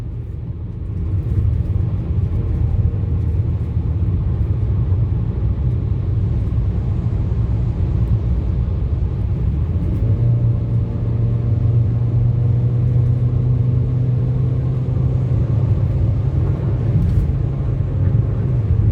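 A Citroen C4 Picasso 1600cc drives on the road with a steady low engine rumble and road noise throughout, rising in pitch as it accelerates in the second half, heard from inside the cabin without talk.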